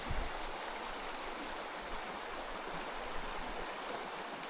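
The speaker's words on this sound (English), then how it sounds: "There guys, back for another river crossing." A small river at a crossing flows steadily, a continuous close rushing and gurgling of water with no voices.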